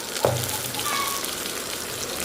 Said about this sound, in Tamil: தெரிக்குது எண்ணெய் தெரிக்குது அடுப்பில் ஃப்ளேமில் வச்சுட்டு நல்லா வதக்கி விட்டுருங்க இந்த ஆனியனை